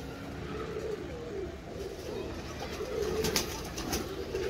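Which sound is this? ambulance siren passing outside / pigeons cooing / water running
pigeons cooing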